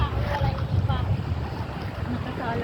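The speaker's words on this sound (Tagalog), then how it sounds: "Maalo ng dagat, guys." Strong, cold gusty wind roars over rough, churning sea water at the shore, with low rumbling buffeting throughout and faint voices in the background.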